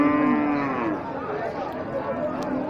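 At a busy rural cattle market in Bangladesh, a cow lets out a long, loud, drawn-out moo close by, fading into crowd chatter and market noise.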